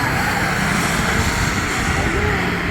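A drone flying in Vietnam gives off a loud, steady buzzing whir that fills the whole stretch without a break.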